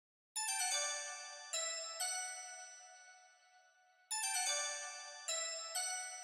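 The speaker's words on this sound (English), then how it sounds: "For ear candy you can add a plucky fill like this." Bright plucked synth notes ring out in quick bursts as a fill in a dance track, a short melodic phrase that pauses, fades, then returns with several more crisp plucks.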